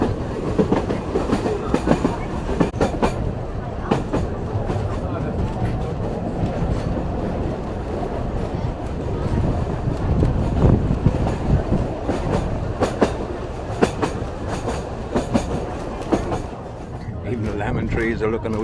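The Sóller train clatters along its rails through dry countryside on Mallorca, a loud continuous rumble with rhythmic clickety-clack and wheel noise heard from on board throughout.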